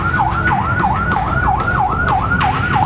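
A fire truck siren wails loudly and close in a steady repeating up-and-down cycle, about two sweeps per second, at a shop fire in South Tangerang, Banten.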